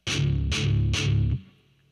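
Three palm-muted downstrokes on the low three open strings of a distorted electric guitar thud out in a steady, evenly spaced rhythm, tight and close, then fade quickly into silence.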